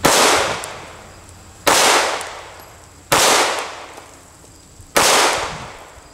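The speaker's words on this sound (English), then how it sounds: "we're shooting from the same distance here" Four sharp, loud pistol shots from a Smith & Wesson M&P fitted with an RMR sight, fired at a steady pace about one and a half seconds apart, each followed by a ringing decay with no talk.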